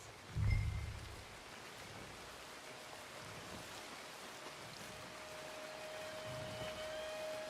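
Steady rain falls in the Red Dead Redemption 2 video game during a jailbreak scene, a soft continuous hiss with a brief low thump near the start.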